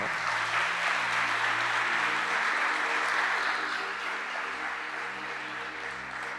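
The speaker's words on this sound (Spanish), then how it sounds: "Dele palmas fuertes al Señor." Church congregation clapping loudly in praise, a steady wash of many hands over soft sustained keyboard chords, no voices heard.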